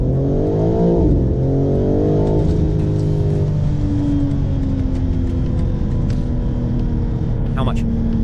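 A BMW M4 G82 with Stage 1 chip tuning accelerates hard from a standstill, engine revving, pitch climbing then shifting through gears, loud and close with a steady rumbling drone.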